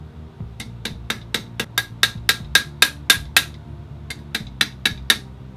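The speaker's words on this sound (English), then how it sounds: "You should be able to drive it in most of the way with the neoprene side of the hammer." A hammer's neoprene face taps a metal pin into an AR-15 rifle upper repeatedly, about fifteen sharp close strikes in a steady rhythm with a brief pause partway through.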